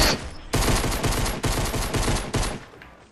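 Rapid automatic gunfire in a shooter video game, loud close bursts repeating about every second with brief gaps between them.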